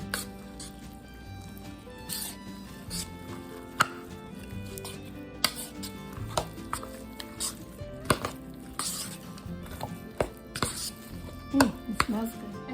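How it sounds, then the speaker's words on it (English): Shredded Colby Jack cheese stirred into funeral potatoes in a bowl, giving soft scraping and knocking of a spoon against the dish in an irregular rhythm, close and fairly quiet, with sharper clinks now and then. "So just stir that all up."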